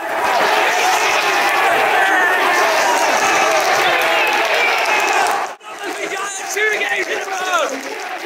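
A football video game crowd roars loudly and continuously as fans cheer a goal, then dips sharply for a moment before the cheering resumes with scattered voices.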